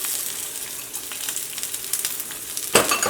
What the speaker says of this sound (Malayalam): ഇതിലേക്ക് സവോള ചേർക്കാം